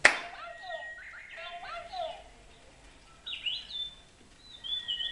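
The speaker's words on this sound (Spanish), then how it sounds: "espectaculares pájaros robot que se accionan con una palmada" A sharp hand clap sets off clap-activated toy robot birds, with bursts of electronic chirps and warbles coming in short, scattered phrases.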